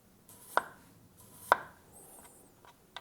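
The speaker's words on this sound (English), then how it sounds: "And now we're just gonna slice thinly." A knife thinly slices a raw potato for chips on a cutting board, giving a few sharp, quiet cutting taps spaced about a second apart in a hushed kitchen.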